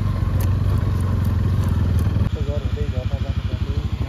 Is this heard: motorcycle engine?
yes